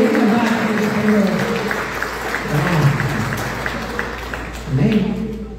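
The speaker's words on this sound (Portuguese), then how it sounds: "dá as palmas para Jesus" Congregation clapping during a Sunday church service, a steady wash of hand claps over about six seconds, with voices talking and singing underneath throughout.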